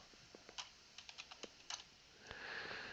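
A quick burst of about a dozen crisp keystrokes on a computer keyboard, close and fairly quiet, followed by a softer rustle at the end, with no talking.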